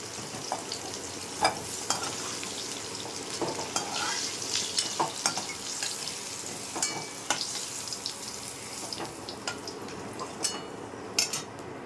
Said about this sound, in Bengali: আলু পটল ভাজা হয়ে গেছে, এবার তুলে নেব